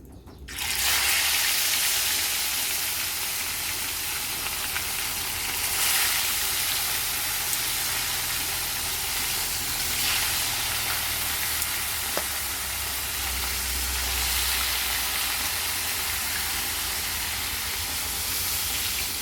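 Tilapia body frying in hot cooking oil, a loud, steady sizzle and hiss close by that starts abruptly and continues evenly for nearly twenty seconds, with occasional bubbling swells and no talking.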